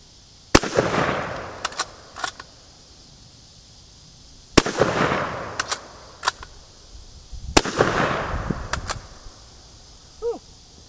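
Three loud gunshots from a J.C. Higgins 583.20 bolt-action shotgun fired at a cabinet, spaced a few seconds apart, each with a rolling echo, between them faint bolt clicks and a short vocal exclamation at the end.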